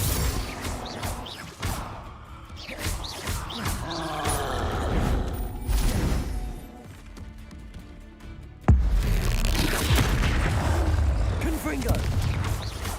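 Confringo blasting-spell explosions in the video game Hogwarts Legacy: repeated booming blasts and crackling bursts of spell combat, with a loud impact near the middle, over busy game sound and a speaking voice.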